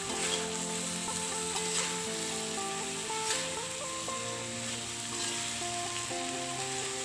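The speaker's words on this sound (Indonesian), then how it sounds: "kita masukkan buncisnya tadi. Baru kita tumis lagi." Green beans stir-fried in a pan sizzle in a steady, close, loud frying hiss that continues throughout, with no one speaking.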